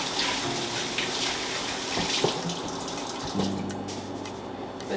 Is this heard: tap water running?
yes